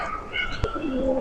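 Pigeons coo softly in a short, rainy-day stretch of backyard ambience, with a brief sharp knock near the middle and low murmuring beneath.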